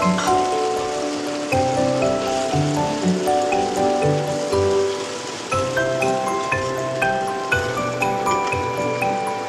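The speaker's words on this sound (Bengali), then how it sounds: "অল্প করে বাটিটা ধুয়ে একটু জল দিয়ে দিলাম।" Water from a rinsed bowl is poured into a hot pan of ginger and green chilli spice paste, giving a continuous rushing, sizzling hiss with a tonal musical layer running over it throughout.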